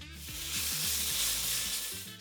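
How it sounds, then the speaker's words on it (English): Vegetables sizzle and hiss loudly in a hot wok for chicken and prawn chow mein, with the rhythmic scrape and clatter of tossing running under the steady frying. "Give the veggies another quick toss around the wok."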